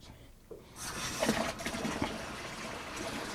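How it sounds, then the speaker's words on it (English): Tap water running steadily into a 23-litre home-brew wine fermenter, a continuous splashing fill that starts after a brief quiet moment and holds level to the end. "fill it up with water"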